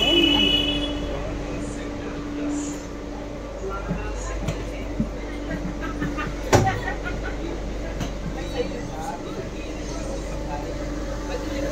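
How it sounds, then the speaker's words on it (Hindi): A metro train in Noida rumbles with a steady low hum and rolling noise, with a sharp clunk partway through and faint rattles. People talk over the train sound. "मेट्रो आ चुकी है, खुल गए दरवाजे और अब जा रहे हैं।"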